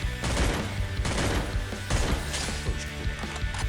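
Gunshots in the mobile shooter Free Fire: a few loud, close shots spaced about a second apart, each a sharp crack followed by a short ringing tail.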